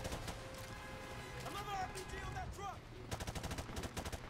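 Gunfire in the video game Modern Warfare Remastered, with rapid bursts of shots that grow denser and louder toward the end over a steady low game rumble, while a voice talks throughout.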